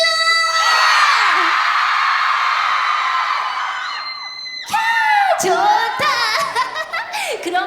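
An audience at an Elsword concert live talk screams and cheers together in a loud, sustained burst lasting a few seconds, then it breaks off into excited voices and talking.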